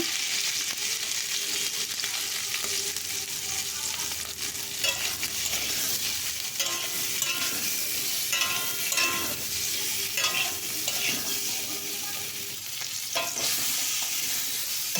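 Potatoes fry in mustard oil with salt and turmeric in a wok, giving a steady, close sizzle with scraping stir strokes and bursts of crackle throughout.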